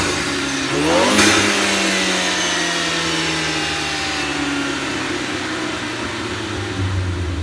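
A Ford ST engine revs up hard, its turbo whining and spooling in a loud sweep before the engine settles into a steady, slowly falling drone.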